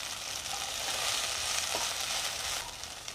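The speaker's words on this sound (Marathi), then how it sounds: "दही घातल्यावर सुद्धा मी अजून 2 ते 3 मिनिटं भेंडी शिजवून देणार आहे" Okra cooked with yogurt fries in a pan with a dense, steady sizzle that holds for a few seconds with no voices.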